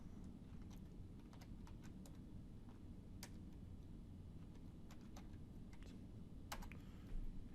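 A computer keyboard is typed on in short, faint bursts of clicky keystrokes over a steady low hum, with no one speaking.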